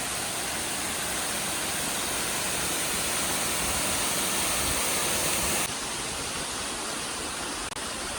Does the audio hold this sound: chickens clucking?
no